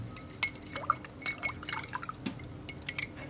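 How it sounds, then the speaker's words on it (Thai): Lime juice and a prepared sauce being poured into a mushroom salad, giving soft liquid trickles and light drips against glass, with small clinks, fairly close and quiet, no talking. "ใส่น้ำมะนาวลงไป แล้วก็น้ำซอส น้ำซอสที่เราปรุงแล้วนะคะนี่"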